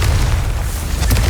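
A Confringo spell blast from the video game Hogwarts Legacy lands as a deep, booming explosion with a rumbling low end and a sharp burst near the end, brief and loud.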